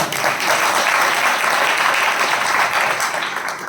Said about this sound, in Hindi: ताली भी सिर्फ पुसद वालों ने बजाई।